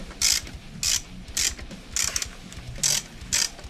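Socket wrench ratcheting as Hipshot tuners are tightened on a PRS SE guitar, six crisp bursts of rapid clicking in an even rhythm, close up and alone, with faint knocks between strokes.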